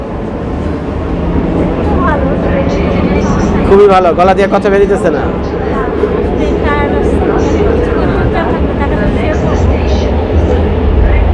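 A Milan metro train carriage rumbles along in motion, with a deep steady roar and rattle beneath people chatting close by.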